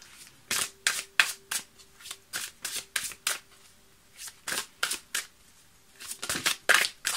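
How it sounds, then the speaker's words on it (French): A deck of energy mandala oracle cards is shuffled by hand in a quiet room, giving repeated crisp riffling bursts in an uneven rhythm, close and clear with no talking. "je vais prendre donc l'oracle des mandales d'énergie et on va tirer la carte"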